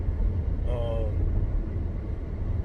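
Steady low rumble of a car interior with air blowing continuously throughout, a brief tonal whine partway through, no talking.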